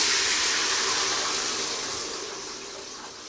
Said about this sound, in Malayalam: അതിനകത്ത് തിള പൊട്ടിക്കൊണ്ടിരിക്കുകയാണ്.